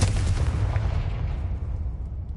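A Confringo blasting spell goes off in Hogwarts Legacy, a loud, dense booming blast whose rumbling tail slowly fades over about two seconds.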